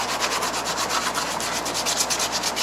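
Coarse 80 grit sandpaper rubs rhythmically back and forth over a truck's fender flare, a close, steady scratchy rasp with even strokes and no talking.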